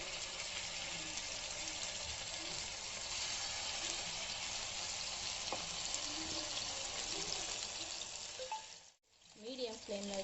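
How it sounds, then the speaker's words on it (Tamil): Chicken pieces fry in hot oil in a pan over a medium flame, giving a loud, steady, dense sizzle throughout that cuts out abruptly near the end before a brief, quieter return. "மீடியம் ஃப்ளேமில் வச்சு நல்லா வறுத்து எடுத்துக்கோங்க"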